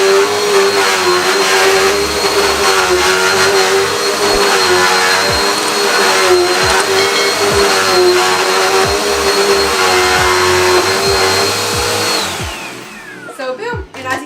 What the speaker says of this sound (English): So let's go ahead and turn it on and see it in action.